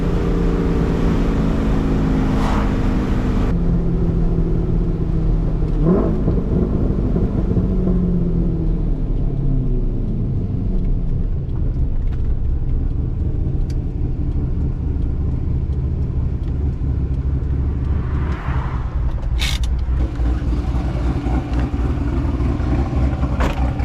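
A Corvette C5 V8 engine runs with a deep, steady low rumble, heard up close inside the car. It holds evenly throughout with slight pitch shifts and a few faint knocks, and no one speaks.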